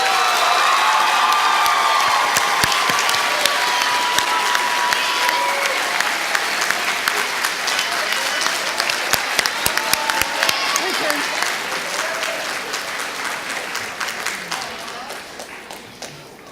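Loud, sustained audience applause fills a school eighth-grade recognition ceremony, with scattered cheers and whoops over dense clapping that holds steady for most of the stretch before tapering off gradually toward the end.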